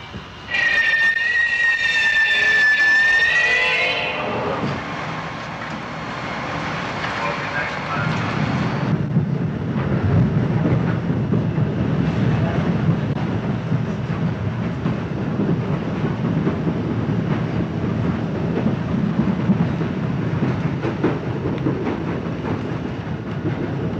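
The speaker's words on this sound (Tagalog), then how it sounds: "Grove Street next, change that for the Harrison Newark train." A Harrison–Newark commuter train rolls along the rails with a steady, close rumble that lasts throughout, starting with a bright screech or whistle that gives way to continuous wheel noise.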